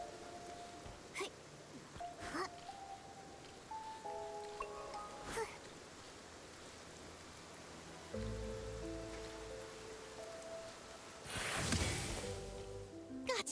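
Rain falls in the Infinity Nikki video game as a soft, continuous patter under gentle melodic game music, with a brief louder splash of noise near the end.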